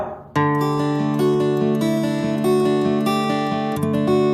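A guitar plays sustained chords alone, ringing clearly and evenly with a few changes in harmony.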